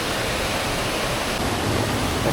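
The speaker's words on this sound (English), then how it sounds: "Yeah, here it is, Pam Bok Waterfall." Pam Bok Waterfall in Pai, Thailand, where the water gives a steady, dense rushing roar that stays level for the whole stretch. The water is fairly near and there are no voices.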